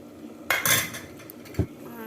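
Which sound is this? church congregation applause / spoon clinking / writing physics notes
spoon clinking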